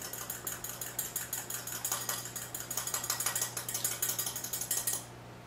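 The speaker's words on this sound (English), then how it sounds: "Whisk that up really good." An egg being whisked in a bowl for a flour batter, a quick steady clatter of whisk strokes against the bowl repeating evenly for several seconds before stopping abruptly, over a low constant hum.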